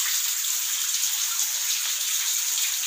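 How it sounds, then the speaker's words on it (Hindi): Cool Ram Ganga water flows steadily into a pool at a mountain shrine of Jarneshwar Mahadev, making a continuous bright hiss and splash that stays loud and even throughout, with no voices. "12 महीना यहाँ ये शीतल राम गंगा का पानी बहता है"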